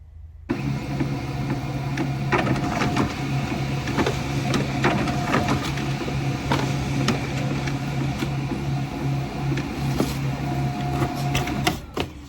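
A printer running continuously as it prints pages, a loud steady mechanical whir with a low hum and repeated clicking feed sounds, alone with no voices.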